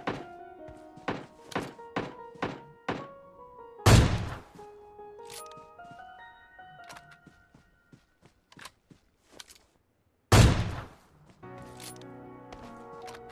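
Gunfire in the PUBG Lite video game, sharp shots spaced irregularly with two heavy booming blasts and interface tones in between, loud and close with no talking.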